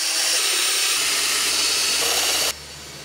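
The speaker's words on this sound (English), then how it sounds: "grab a drill with the correct bits listed on the template," A power drill whines at high speed and loud volume drilling holes in a project box, with a low motor rumble that stops abruptly just before the end.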